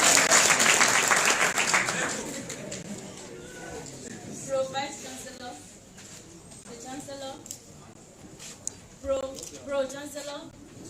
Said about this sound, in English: A round of applause for Ganiya Adepomi